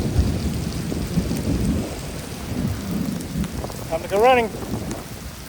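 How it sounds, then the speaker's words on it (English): Torrential rain pours down in a lightning storm, a dense loud hiss of drops with deep rolling thunder rumbles, and a voice speaks briefly near the end. "It is absolutely a torrential downpour outside right now."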